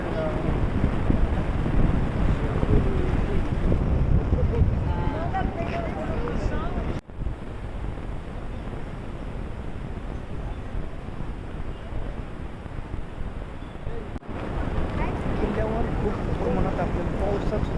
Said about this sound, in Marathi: तिकडे पाणी आणि ज्या लाटा आहेत त्या आपल्याला इथे पाहायला मिळतात